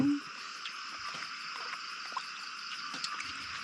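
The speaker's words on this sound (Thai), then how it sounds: "ฟังเสียงเขียดเสียงกบเสียงอึ่ง" Frogs and small toads calling in a forest after fresh rain, a dense, steady chorus of chirps and trills heard from a distance, with a brief thump at the start.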